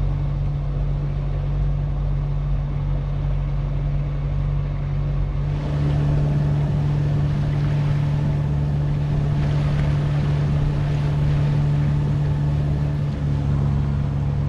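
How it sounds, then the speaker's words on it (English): A sailboat motors with sails down toward Santa Barbara Island, its engine holding a steady low drone with a constant tonal hum, louder and busier partway through, and no speech. "Gently motoring towards Santa Barbara Island. Sails are down."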